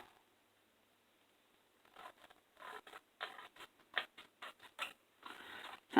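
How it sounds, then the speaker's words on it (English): Scissors snip through scrapbooking paper in a run of quick, close, crisp cuts, irregular at first and then faster, with a quiet room around them. "Well, I'll just cut that off with scissors."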